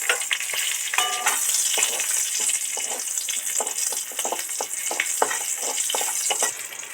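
Crushed cardamom, whole dried red chillies, halved green chillies and a bay leaf fry in hot oil, a steady sizzle broken by repeated spatula scrapes and light clinks.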